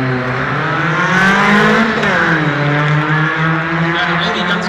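An Audi S3 with all-wheel drive and a Seat Toledo launch from a standing start at a Hamburg car show, their engines roaring loud and close as the pitch climbs steadily, then dips and rises again with the gear change.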